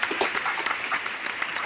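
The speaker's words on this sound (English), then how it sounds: "Another round of applause for Warren B." At a comedy night, a crowd applauds briefly for a comedian. The clapping is dense and close-up but short.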